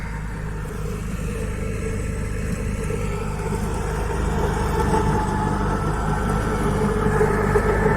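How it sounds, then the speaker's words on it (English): A petrol lawn mower cuts grass nearby beside a fishing lake, its engine droning steadily at low pitch and growing slightly louder toward the end, with no talking. "man cutting the grass is deciding he's going to cut my bit of grass"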